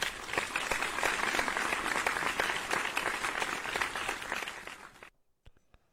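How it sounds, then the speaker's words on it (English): Applause and clapping from a small group on a podcast, fairly dense then fading out, ending with a few isolated claps after a near-silent gap. "Can we get a round of applause, man?"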